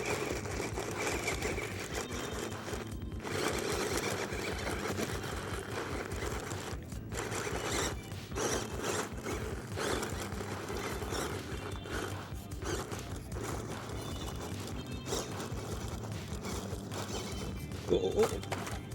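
A JXC Discovery budget RC crawler runs in second gear, its small motor whirring and buzzing steadily and close, with brief pauses throughout, while someone talks over it.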